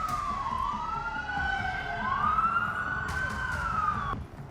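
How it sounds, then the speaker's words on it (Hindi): A wailing emergency siren rises and falls on a road near the White House in Washington after a shooting, loud and steady over a low traffic rumble, with overlapping sweeping tones before cutting off near the end. "रोड पर सायरन बज रहा है।"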